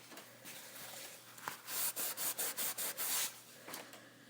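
Short, rapid scraping strokes across a polished surface testing a stamped finish, about eight evenly spaced rubbing passes in a quick rhythm, close and moderately loud, after a few softer isolated scrapes.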